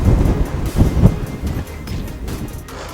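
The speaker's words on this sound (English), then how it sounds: "You can hear the wind ripping through." Strong wind buffets the microphone on the slopes of Mount Taranaki, loud rumbling gusts that are heaviest at first and then ease to a steadier roar.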